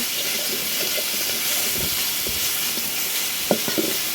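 Bottle gourd pieces being stirred in oil in a pan, a steady frying sizzle with scraping spoon strokes against the metal, a few louder knocks near the end.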